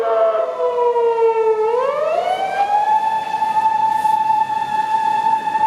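A loud police car siren in Tokyo holds a low tone, then swoops upward and sustains a steady high wail, close and continuous.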